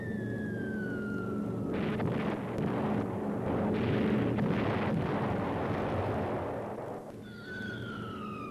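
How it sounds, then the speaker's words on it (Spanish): Incendiary bombs dropped on London in archival Second World War film, a dense roaring rumble of blasts and fire that swells and sustains for several seconds, with a high whistling tone before and after the barrage. "Se lanzan sobre Londres 300 toneladas de potentes bombas incendiarias en menos de 1 hora y media"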